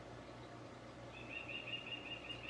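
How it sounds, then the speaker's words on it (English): Chirping bird calls from an old-fashioned bird clock, a thin warbling whistle that enters partway through and repeats over a low steady hum in a home kitchen, faint and alone. "You hear my bird clock?"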